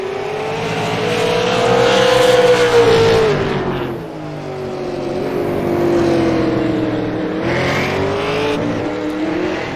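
Race car engine on the track at Irwindale during a Tri Track championship race, droning loudly and steadily with pitch rising and falling as it shifts down, crowded by other cars nearby.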